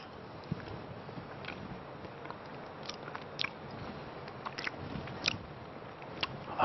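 Chicken salad with fromage blanc and curry is chewed close up, giving soft, wet, irregular chewing with occasional small crunchy bites. It is quiet, with no talking.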